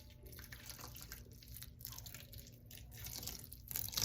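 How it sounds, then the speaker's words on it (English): Cold water poured into a bowl of salted chopped vegetables for hot pepper relish, with close, faint trickling and dripping and a few soft crunchy rustles, and no voice. "And then we're gonna add a little bit of cold water."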